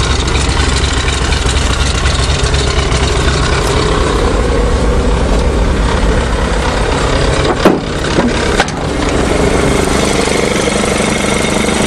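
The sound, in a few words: Chevy 427 dump truck engine running after start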